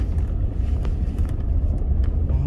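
A pickup truck in 4-wheel drive climbs a hill on a winter outing, its engine a steady low rumble heard from inside, loud and continuous with some wind buffeting and rattles, no talk.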